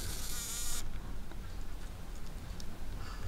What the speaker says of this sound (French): Chasse la mouche.